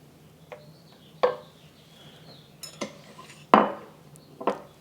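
A spoon scoops Korean beef tofu stew into a bowl, with about five scattered close clinks and scrapes of metal against the pot and dish, separated by quiet gaps.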